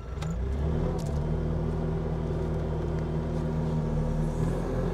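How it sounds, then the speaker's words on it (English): A 2019 Bobcat T650 M Series compact track loader with a 74 hp engine fires up, a brief cranking catch settling into a steady, close diesel idle hum. "So we're going to fire this machine up."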